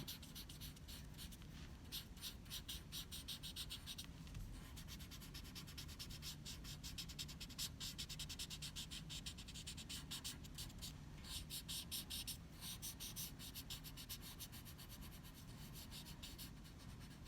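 Blending stump rubbed over pencil shading on paper while drawing hair, a soft continuous scratchy swishing in steady back-and-forth strokes, close and quiet with no talking.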